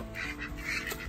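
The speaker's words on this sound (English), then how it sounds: "Hello, Ducky." Duck quacking while being caught during a butchering day, a few short nasal quacks close by over a steady low background hum.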